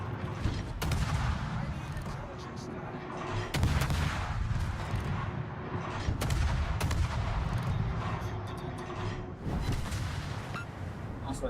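Warship guns fire in World of Warships, deep booming salvos at intervals over a constant rumbling background, heavy and loud.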